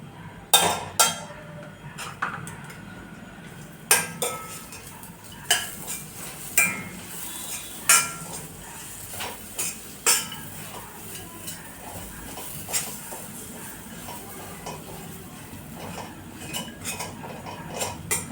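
Sweet potato roasting in butter with dry fruits, stirred in a pan: sharp, repeated spoon clinks and scrapes against metal at an uneven pace, with a light sizzle underneath.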